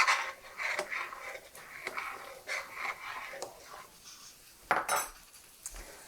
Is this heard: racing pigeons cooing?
no